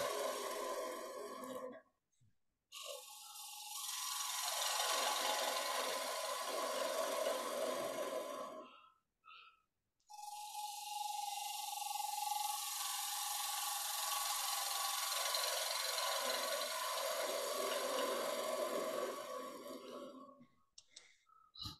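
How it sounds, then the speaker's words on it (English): A gouge cuts surplus wood from a bowl turning on a lathe, making long, continuous rasping passes that stop briefly between cuts, steady and fairly close. "Cut this surplus wood away."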